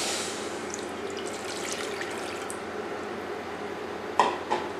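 Steady broadband splashing of two cups of water pouring into a 2.5-quart saucepan on the stove for about four seconds, ending with two short metallic clinks; no voices.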